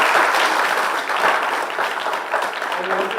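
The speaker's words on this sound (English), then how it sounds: "I wanted to give the Ministry of Education a round of applause for that." An audience at a national debating championship final gives a steady round of applause, dense clapping that carries at an even level for several seconds.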